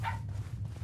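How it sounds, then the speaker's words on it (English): A puppy barks in the horror video game Pacify, one short yelp-like bark near the start over a steady low game drone. "Puppy. It's barking on you."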